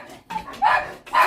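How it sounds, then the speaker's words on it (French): A small pet dog barks indoors at people passing by the house, three short close yaps with slight whining tones, loud and sharp with brief pauses between. "c'est mon toutou, mon loulou, mon chien loulou"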